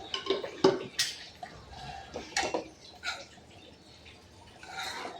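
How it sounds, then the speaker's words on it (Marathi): Vegetable curry stirred in a pan, a spoon knocking and scraping against the metal in several distinct clinks with softer scraping between them, close by and fairly quiet. "भाजीला एकदा फिरवून घेते"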